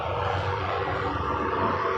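A helicopter flies overhead, its steady, broad engine roar droning loud and unbroken for the whole moment.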